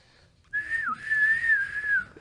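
A clear, sustained whistle wavers up and down in pitch for about a second and a half, close and fairly loud, with a brief dip partway through.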